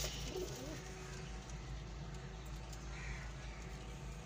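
Domestic pigeon in a loft, soft throaty cooing under a steady low hum and background noise, faint and close.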